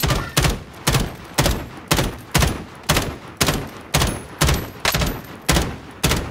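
Gunfire in the Call of Duty Warzone battle royale game, a steady series of about a dozen loud, sharp shots fired one after another at an even rhythm, each with a short booming tail.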